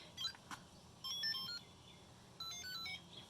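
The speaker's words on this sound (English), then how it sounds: "it makes an R2D2 noise, and I really love that" Electronic R2-D2-style beeps and warbling chirps from a Star Wars Tamagotchi toy refusing food, two short bursts of high tonal bleeps, fairly faint and heard alone with no talk.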